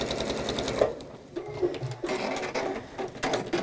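A domestic sewing machine stitches a fidget quilt block, its motor whirring steadily with a rapid needle chatter that briefly slows and restarts, close up and fairly loud, with no talking.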